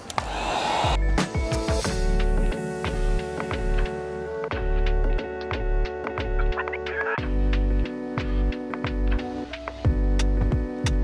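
A heat gun blows a steady loud airy hiss with a motor whine while post-heating chrome delete vinyl film on the front grille of a 2018 Infiniti Q60, broken by clicks and taps as the tool moves and switches.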